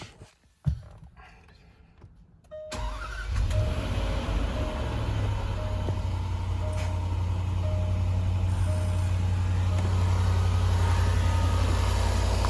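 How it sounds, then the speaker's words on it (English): A Dunlop air suspension compressor on a Range Rover Sport L320 that only holds normal ride height kicks in after a few seconds of quiet clicks, then drones steadily and loudly alongside the running vehicle. "can hear the compressor starts working."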